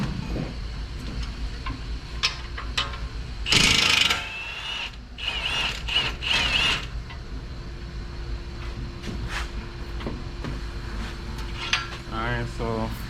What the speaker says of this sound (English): you just have the socket on one end and the wrench on the other